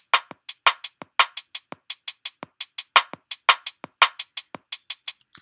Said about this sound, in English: A linear drumming sequence is a sequence where at one head at one time on one beat only one drum head is hit.